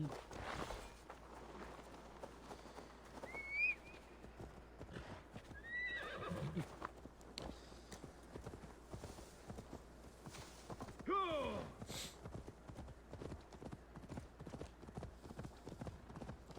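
Horse hooves clip-clop in a steady trotting rhythm in the video game Assassin's Creed Valhalla, with a couple of whinnies rising above, fairly quiet overall.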